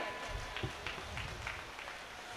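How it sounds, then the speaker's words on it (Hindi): At a Hindi kavi sammelan, a poetry gathering, the audience claps loudly in a dense, lively burst. Individual sharp claps stand out against the steady patter throughout. "जोरदार तालियां बजाइए"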